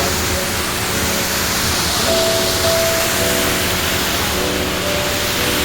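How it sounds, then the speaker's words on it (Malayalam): A waterfall on the Muthirappuzha river near Ponmudi, Idukki, gives a steady, loud, broadband roar of rushing water that continues without a break, with a faint engine-like hum underneath. No one talks. "വാട്ടർഫാൾസ്"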